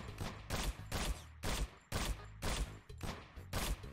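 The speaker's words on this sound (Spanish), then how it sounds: "estoy errando mucho los tiros hacia la derecha" Rapid bursts of gunfire from the Aim Lab aim-training game, about eight sharp loud volleys in a steady rhythm, each one crisp and close, with no voices.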